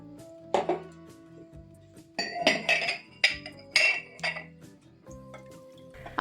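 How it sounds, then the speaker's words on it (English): Ceramic cups knock and clink together as they are lowered into a warm water and vinegar solution, several bright clustered chinks in bursts with brief liquid sloshing between, close and alone. "I lower the cups into the solution and leave them for 1 hour."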